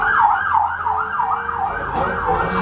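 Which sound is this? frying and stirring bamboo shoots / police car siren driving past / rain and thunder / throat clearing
police car siren driving past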